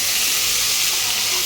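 A spice paste of onion, cumin, mustard and green chilli sizzles loudly in hot oil, a steady, close, dense hiss that runs unbroken throughout, with no voices.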